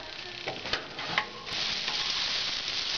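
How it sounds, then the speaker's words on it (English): Onions sautéing in a little oil in a pan for chili, giving a steady close sizzle with a few soft stirring clicks early on before the hiss settles into an even, continuous crackle. "Put a little bit of oil in the pan. I just want to saute the onions a little bit before we put them in."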